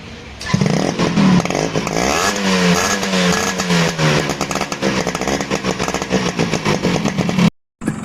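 A green Yamaha RX 100 two-stroke motorcycle engine at a mechanic's shop runs close and loud, revving up and down with a buzzy, crackling exhaust note before a brief dropout near the end.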